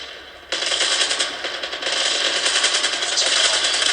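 Sustained automatic gunfire in the mobile shooter Call of Duty Mobile, a loud, continuous rattling burst that kicks in abruptly and holds for several seconds, with no talking.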